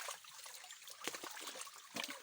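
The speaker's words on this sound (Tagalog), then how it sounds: "Kaya ang tubig, naga-flow ang tubig." River water flows and trickles nearby, a faint, steady watery rush with a few brief splashy bursts, no voices over it.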